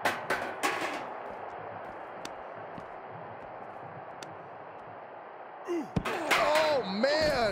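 In WWE 2K23 a wrestler crashes into a table during a backstage brawl, giving sharp impact bangs over low game ambience, then a loud smash and a commentator's excited voice near the end.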